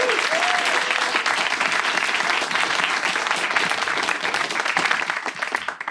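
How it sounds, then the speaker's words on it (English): Dense audience applause fills the room for a filmmaker seated in the front row, steady and loud throughout before tapering slightly at the end. "Let's give him a round of applause."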